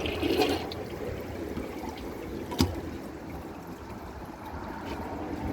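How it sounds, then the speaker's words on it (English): American Standard Cadet 3 tank water draining away with a steady, close rushing flush and trickle, one brief sharp clunk partway through, no voices. "I'm going to empty the rest of the water out of the tank."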